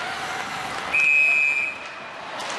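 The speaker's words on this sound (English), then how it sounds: "And there's the whistle." At a PWHL ice hockey game between the Boston Fleet and Toronto Sceptres, a referee's whistle gives one shrill, steady blast of under a second over the constant roar of the arena crowd.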